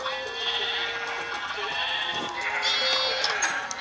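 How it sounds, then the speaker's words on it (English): Flocked sheep in a video game farm bleat in a near, loud cluster, a few wavering cries overlapping one another against a soft game background. "I'm trying to pull the sheep in there."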